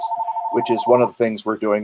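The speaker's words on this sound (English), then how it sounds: "That's my phone. Sorry about that." A mobile phone rings during an interview, a steady electronic tone sounding alone at first and then carrying on faintly while a person keeps talking over it.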